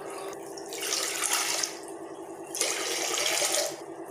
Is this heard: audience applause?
no